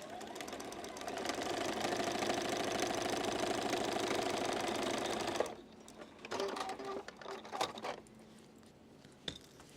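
Sewing machine stitching quilt strips runs in a steady, continuous whir for about five seconds, then stops, leaving a few faint clicks and handling noises.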